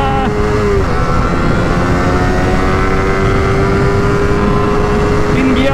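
A Suzuki GSX-R150 motorcycle races at high speed on a friendly race against a 4V, its engine droning loud and steady with a sustained tone and heavy wind rush throughout.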